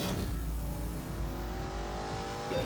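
A V8 engine in The Grand Tour Game video game revs steadily, its pitch climbing through a sustained sonorous drone with rising harmonics, loud and close with no talk.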